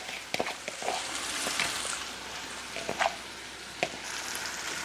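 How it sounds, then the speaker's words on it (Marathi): Washed, unsoaked rice fries in a hot pan as a steady sizzle, with several sharp scrapes and clinks of a spoon stirring it, close and moderately loud, with no talking. "आता तांदूळसुद्धा मी 2 मिनिटं चांगला परतून घेणार आहे."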